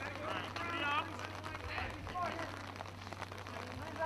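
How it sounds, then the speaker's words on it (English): Heavy rain pours steadily at an outdoor high school baseball game, a dense wash of hiss under a low hum, with distant voices and crowd murmur faintly audible beneath it. "the rain is coming down a lot heavier now"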